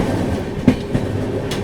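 Saurashtra Mail train rolling past Than station, a steady low rumble of carriages with a couple of soft wheel clicks over rail joints, fairly near and continuous.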